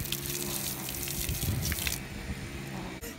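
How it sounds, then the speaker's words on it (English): Water gun squirting a steady, hissing spray of water at close range, continuous for about two seconds and then cutting off, followed by quieter room noise. "Now I have to get squirted by a water gun."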